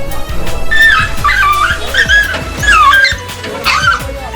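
Several caged stray dogs whimper and yip in high, whining bursts close by, with short barks and rustling movement underneath.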